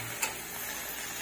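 Tofu and kangkong sauté in a pan with a quiet, steady sizzle, and a single light clink near the start.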